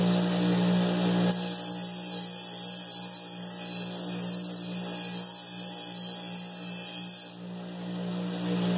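An 8-inch paper buffing wheel charged with white diamond polishing compound spins steadily against a knife edge to remove the burr, giving a continuous mechanical hum with a brighter hiss that starts suddenly and cuts back near the end.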